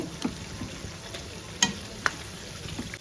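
Chicken botti of skin, liver, heart and gizzard sizzles steadily in a pan while a spoon stirs it, with a few sharp scrapes and taps standing out over the constant frying hiss.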